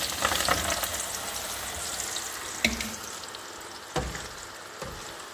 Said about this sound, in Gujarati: આપણે લસણ એમાં તેલમાં નખાઈ રહ્યું છે